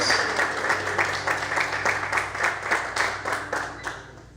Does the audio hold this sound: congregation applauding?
yes